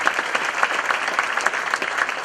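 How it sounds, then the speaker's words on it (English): An audience at a county government address gives a round of applause, loud and continuous clapping from a large crowd with a dense, even texture throughout. "Please give John a round of applause."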